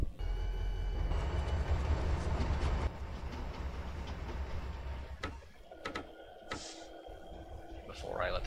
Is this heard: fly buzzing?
no